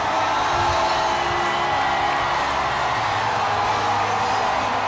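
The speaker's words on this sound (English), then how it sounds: "Listen to the crowd. They love their Astros." A large outdoor crowd at the Houston Astros World Series victory parade roars steadily, a dense, continuous wash of cheering and whooping with scattered voices, loud and unbroken throughout.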